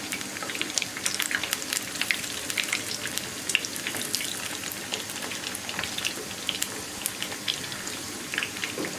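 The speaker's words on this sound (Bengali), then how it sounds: "জালটা কমিয়ে ভাজলে মাংসটা সেদ্ধ হবে ভালো," Chicken coated in Thai red curry paste fries in a pan over low heat, giving a steady, fine crackling sizzle with scattered sharper pops throughout, close and alone without talk.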